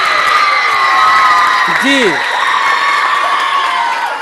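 A crowd at a Sindhi stage show claps and cheers steadily, with whoops and shouts rising over the din and a brief voice in the middle.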